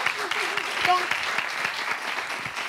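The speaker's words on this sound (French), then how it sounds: "Applaudissez pour vous" A studio audience on a live Togolese entertainment show breaks into applause, steady clapping with a few brief vocal calls and tones mixed in.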